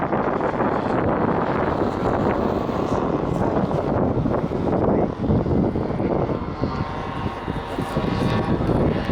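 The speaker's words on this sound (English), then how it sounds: "World War II aircraft at their very, very best." A large-scale model World War II aircraft engine roars steadily past at an RAF Cosford model air show, loud and continuous with wind buffeting the microphone throughout.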